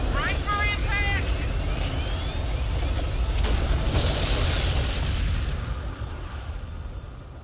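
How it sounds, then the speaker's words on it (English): Spacecraft crash landing on the ring in the Halo video game: a loud, continuous roaring rumble with a sharp impact-like burst midway, then a slowly fading heavy drone, with game music tones early on. "Crash landing on the ring"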